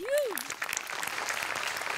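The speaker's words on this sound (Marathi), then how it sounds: "सगळ्यात आधी प्रचंड टाळ्या गोस्वामींसाठी" Audience clapping at a comedy sketch show fills the clip steadily after a brief rising tone at the start, a dense patter of many hands at moderate distance.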